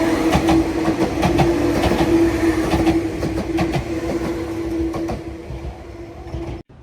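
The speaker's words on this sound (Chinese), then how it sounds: "在江之店的平交道口有个看台可以欣赏电车" An Enoden electric train passes a level crossing near Kamakura. Its wheels clatter loudly and rhythmically over the rails close by, with a steady tonal hum running underneath, before the rumble thins and fades out at the end.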